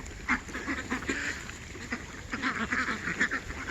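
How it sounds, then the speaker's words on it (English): A Swedish duck in a small backyard flock of young ducks, geese and laying hens quacks repeatedly in short, nasal bursts, close by and moderately loud amid other fowl chatter. "the Swedish duck right here"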